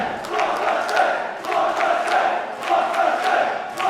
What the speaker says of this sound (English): The crowd came alive the minute the Blockbusters walked out